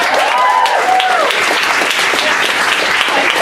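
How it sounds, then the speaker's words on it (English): Sustained applause from a stand-up comedy audience, steady and full, with a few whistles or cheers rising over the clapping. "So let's give them a applause."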